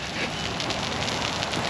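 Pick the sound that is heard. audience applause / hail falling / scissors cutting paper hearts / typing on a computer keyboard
hail falling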